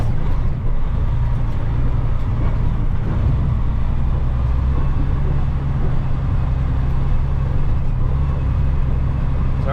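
A truck rumbles along an overgrown woodland track with branches brushing the mirrors, a steady low engine drone and rough-road noise held at constant loudness throughout, with no talking.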